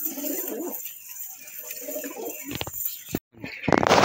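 Kolkata bloodline Madrasi pigeons at a sale cooing in soft, low, repeated bursts nearby, followed by some clattering and a sharp handling noise near the end.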